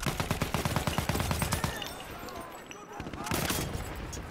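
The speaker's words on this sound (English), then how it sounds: "Got me with a sniper." Gunfire rattles through a Battlefield 1 multiplayer match. A rapid run of loud, close shots is followed by a quieter lull, then a heavy burst of firing near the end.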